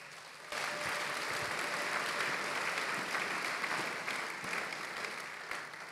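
Congregation applauding during a Sunday church service, steady dense clapping from many hands that starts abruptly and carries on for several seconds before easing slightly.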